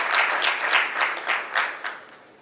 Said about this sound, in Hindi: मैं रिक्वेस्ट करूँगा हम डीलर भाइयों को एक तालियों की गड़गड़ाहट से